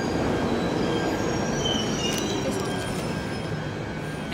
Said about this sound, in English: we just got on the second train going home